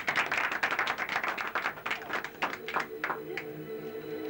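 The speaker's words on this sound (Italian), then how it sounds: "con me ripeto di fare un altro applauso" Applause from an audience at a radio event in Naples, starting as dense, loud clapping and thinning into scattered claps and fading at the end, with some voices underneath.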